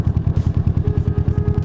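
A Kawasaki ER6n parallel-twin engine fitted with a Yoshimura slip-on exhaust idles close by in a steady, lumpy low pulse, loud and even, with a faint whine running over it.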